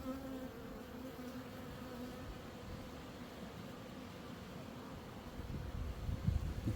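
Honey bees buzz steadily during a weekly beehive inspection, a dense, even hum close by that swells slightly toward the end.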